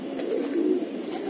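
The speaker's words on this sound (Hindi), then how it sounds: "दो कबूतर बैठे हैं साथ में" A pigeon gives one brief, soft, low coo nearby, a short throaty burble with no voices around it.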